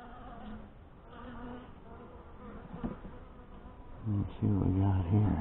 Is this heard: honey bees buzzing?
yes